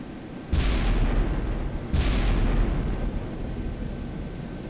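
Two heavy booms from the battleship Wisconsin's turret guns firing in the naval video game Sea Power, each a loud, deep blast about a second and a half apart, trailing into a long rumbling decay.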